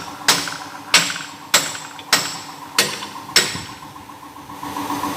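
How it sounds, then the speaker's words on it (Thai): Six heavy hammer blows strike a steel truck leaf spring to straighten it in a workshop, evenly spaced about half a second apart, each a sharp ringing metallic impact with a decaying tail, while an engine idles steadily underneath. "เราต้องตีเนี่ยให้ตรงๆก่อน พอเราตีแหนตรงแล้ว"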